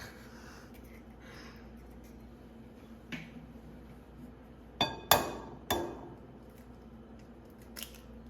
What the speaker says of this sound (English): Don't judge me for how I crack eggs.